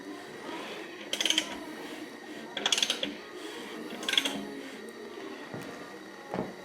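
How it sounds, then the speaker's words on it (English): A ratchet wrench cranks the engine of a Porsche 944 with a V8 swap to turn the cam, giving three short bursts of clicking about a second and a half apart over quiet workshop background. "So, let's get our cranker here, crank the cam out of the way."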